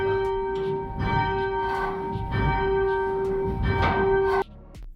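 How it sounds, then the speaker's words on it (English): Church bells of St Thomas Church, Kidsgrove, rung in a series of ringing strikes with sustained tones overlapping, fairly close and loud, ending with a sharp cutoff near the end. "Not before I have a go with the bells first though."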